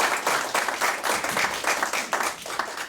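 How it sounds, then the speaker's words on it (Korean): A seminary retreat audience at a church gathering applauds a pastor with steady, dense clapping that carries evenly from start to finish without pause. "우리 이영구 목사님에게 박수 한번 드립니다"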